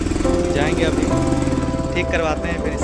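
A motorbike with a faulty silencer runs with a loud, rough, continuous engine rattle and drone, while someone talks over it.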